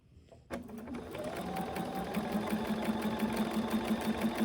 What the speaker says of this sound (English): So I'm just going to go in here and sew along this edge.